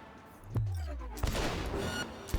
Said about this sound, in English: I'm shooting that guy in the face and ain't nothing happening, man